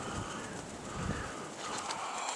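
Crows call briefly and faintly outdoors on a windy day, a few caws over steady wind noise.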